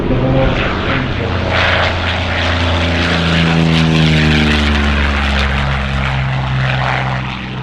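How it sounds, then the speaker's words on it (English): A Curtiss P-40F warbird, fitted with a Rolls-Royce Merlin engine, flies at an Australian airshow, its propeller engine loud and close in a sustained roar whose pitch sweeps down as it passes, with no talking. "The P40 that is flying now is an F model."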